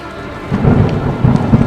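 Deep rumble of thunder rolling in two low swells over a steady hiss of heavy rain, loud and close.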